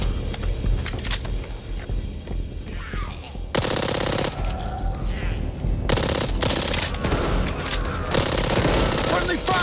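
Rapid automatic gunfire from the zombie shooter Back 4 Blood, loud dense bursts with sharp single shots between them, nearly continuous through the clip.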